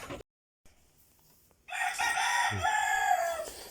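A breeder rooster crows loudly and close by in a single long call, with the sounds of a poultry pen beneath it.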